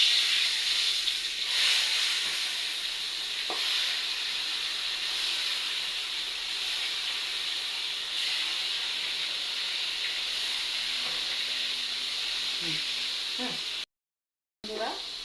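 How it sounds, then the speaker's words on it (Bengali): Fish frying in hot oil in a kadai on a stove gives a steady, even sizzling hiss that runs unbroken for about fourteen seconds, then cuts out briefly near the end. "এই চুলায় আমি মাছটা ভেজে নেব।"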